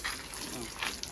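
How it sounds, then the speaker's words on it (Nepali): Water splashes and sprays in short gushes onto a carpet, a brief spattering of liquid close by. "मैले पानी छर्किदिनु पर्छ"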